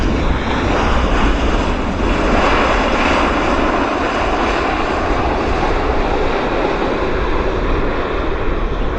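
Aircraft engine roaring steadily at Vancouver International Airport (YVR), a loud, continuous broadband rumble that holds for about nine seconds with no break and no voices.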